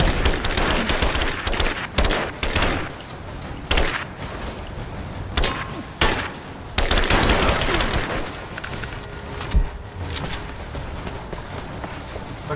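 Gunfire in Rise of the Tomb Raider, loud rapid bursts and single shots from an action game fight, dense and close, with pauses between volleys and no talk.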